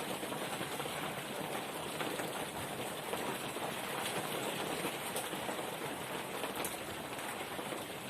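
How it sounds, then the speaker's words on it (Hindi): Steady rain falls outdoors and hisses as a continuous, even wash of drops on surfaces, moderately loud and unbroken throughout, with no talking. "बारिश आ गया है, अभी तो कम है लेकिन बारिश का प्रकोप लगता है कि बढ़ रहा है"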